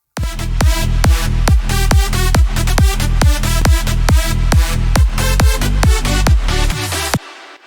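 An electronic drop pounds with a regular four-on-the-floor kick and punchy synth stabs in a steady, loud rhythm, cutting off abruptly near the end, with no talk.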